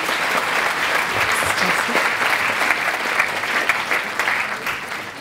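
An audience at an organic products awards ceremony applauds Sonia with continuous, full-bodied clapping that stays loud and even for several seconds.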